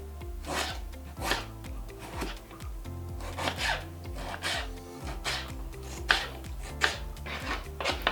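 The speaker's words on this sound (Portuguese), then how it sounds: "E aqui junto nós vamos pegar um tomate, picar aqui juntinho com a cebola." A knife chops tomato together with onion on a board, with repeated quick cuts in an uneven rhythm, close up and fairly quiet, with no talking.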